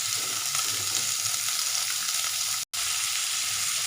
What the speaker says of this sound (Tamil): நல்லா இதை வதக்கிக்கலாம்